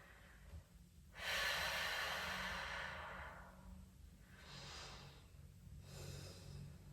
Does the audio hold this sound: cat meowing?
no